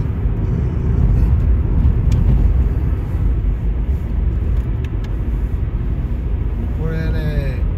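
A Subaru Impreza Sport car driving, heard from inside as a loud, steady low engine and road rumble that swells slightly and stays continuous, with a voice speaking over it.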